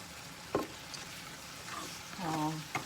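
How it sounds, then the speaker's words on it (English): Chili fries on high heat in a pan with a steady background sizzle, broken by a few brief stirring scrapes and clinks at close range. "Let it fry on a high heat."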